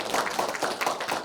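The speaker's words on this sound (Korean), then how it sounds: "박수 한번 해주시기 바랍니다." An audience at the 2024 Jeong So-pa poet literary festival gives a brief round of applause, a quick patter of moderately faint hand claps.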